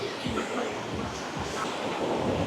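Strong surf breaking at high tide on Boracay beach near a rock formation. A steady, loud roar of waves with rumbling low surges fills the scene, mixed with wind buffeting the microphone and no speech.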